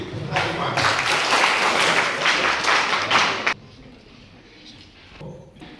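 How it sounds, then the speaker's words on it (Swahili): A classroom audience at a railway signalling lesson bursts into loud applause for about three and a half seconds, then it cuts off abruptly, leaving quiet room tone with a soft thump near the end. "Makofi."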